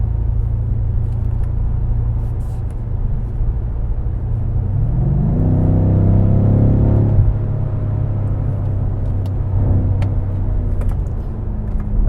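BMW F90 M5 engine heard from inside the cabin, a steady low rumble that swells as the car accelerates and revs rise mid-clip, then settles back to a constant drone.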